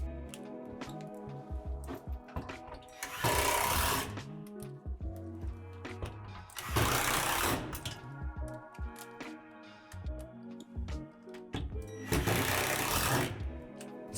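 A power screwdriver fastens a plastic shed roof panel to a gutter channel, in three short buzzing bursts spaced a few seconds apart over quiet background music.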